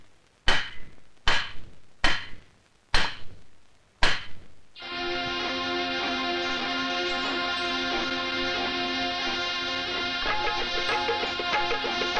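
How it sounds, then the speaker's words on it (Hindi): Five sharp hammer blows strike iron in a slow, even rhythm, each a loud ringing clang, then a sustained bright metallic ringing tone carries on alone to the end. "लोहे की तरफ मार, हथौड़ा मार, और जोर से,"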